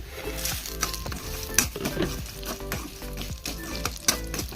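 Fried papadam being stirred into a dish in a pan, giving a soft sizzle with repeated light scrapes and crackles close by, fairly quiet and without talking.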